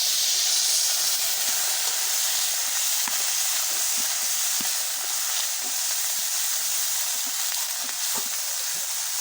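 Onion paste frying in a pan gives off a loud, continuous hiss and sizzle with steamy crackle, steady and close throughout, with occasional faint stirring touches and no voices.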